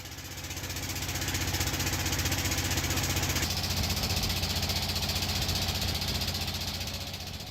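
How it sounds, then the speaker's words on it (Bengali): A loud river boat engine near Bichanakandi in Sylhet runs close by with a continuous, rapid knocking chug that holds steady throughout. "আমাদের নৌকাও ইঞ্জিনের বিকট শব্দ তুলতে তুলতে ঘাটে পৌঁছে যায়।"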